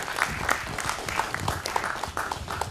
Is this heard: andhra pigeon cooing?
no